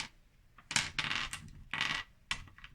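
Dice clatter across a table during a Warhammer 40k tabletop battle, several quick rattling bursts of plastic dice tumbling and settling, close and fairly quiet.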